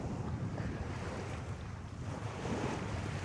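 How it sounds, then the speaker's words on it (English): Chilly wind blowing across an outdoor spot, a steady broad rushing roar buffeting the microphone, faint and continuous throughout with no voices. "the wind is chilly"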